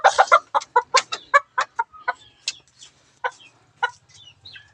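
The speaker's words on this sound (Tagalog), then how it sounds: "Tapos ko nang pinapakain ng ating mga manok." Chickens being fed cluck in a rapid series of short, sharp calls, close by, tapering into scattered softer clucks.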